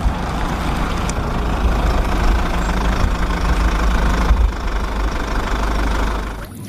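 Toy cement mixer truck giving a steady low rumbling, knocking engine drone, loud and continuous for several seconds before cutting off at the end.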